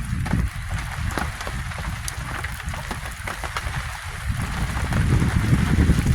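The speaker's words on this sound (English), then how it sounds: "It's raining, ain't it?" Steady rain pattering down outdoors near a rooster pen, a continuous broadband hiss that swells slightly louder toward the end, with no talk over it.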